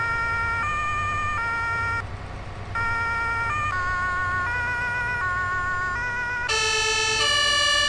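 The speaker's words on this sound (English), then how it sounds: "Those are the sirens we got to deal with." Emergency vehicle sirens in the Farming Simulator 22 video game, several overlapping wailing tones stepping up and down in pitch, loud and continuous, with a deeper engine rumble underneath and a brighter siren joining near the end.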